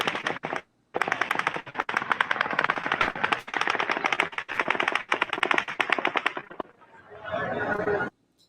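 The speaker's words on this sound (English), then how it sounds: "the 10th volley of automatic gunfire begins" Sustained bursts of rapid automatic gunfire, loud and dense, continuing for several seconds with a short pause before trailing into a rougher, distant rattle.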